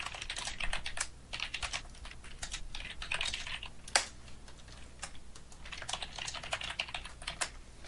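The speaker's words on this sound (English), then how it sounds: "I hear other people typing and I hear like just the keyboard strokes coming through over the Skype call" Rapid computer keyboard keystrokes clatter steadily over a call, a dense run of light clicks with short pauses and one sharper tap, moderately close and alone without talk.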